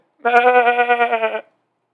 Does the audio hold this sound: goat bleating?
yes